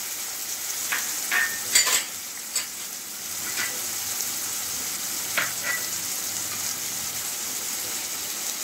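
Chopped tomato and onion stir-frying in a pan for a spicy Bombay duck fish dish, a steady sizzle with scattered scraping stir strokes near the start and again toward the end, no voices.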